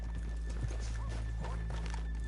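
Faint horse hooves clip-clop amid a low rumbling background in Red Dead Redemption 2, with a brief whinny rising over the steady noise.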